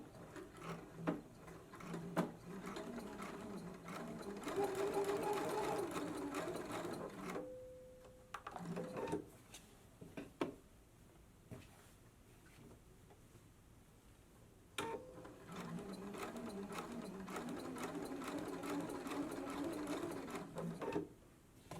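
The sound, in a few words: sewing machine sewing a straight reinforcing stitch on a dress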